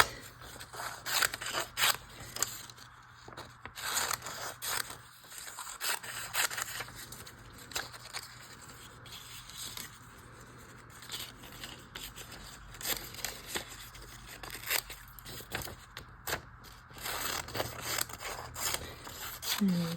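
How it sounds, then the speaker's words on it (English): Scissors snip close by in short, irregular bursts while cutting paper strips for a handmade autumn postcard collage, with light paper rustling and soft talk around them. "In fact, I'll cut some more strips."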